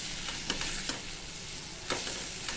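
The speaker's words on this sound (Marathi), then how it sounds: "आता हे मसाले पण आपण चांगले परतून घेऊया." Ground coriander and red chili powder being sautéed in a hot pan give a steady sizzle, broken by a few sharp scraping stirs, close and alone with no voice.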